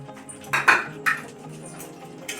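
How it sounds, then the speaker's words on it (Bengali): Spoon scraping and clinking against a pan as pre-fried potato pieces are stirred into cooked masala for chana masala, a few sharp metallic knocks over a soft background hiss. "একটু নাড়াচাড়া করে নেব।"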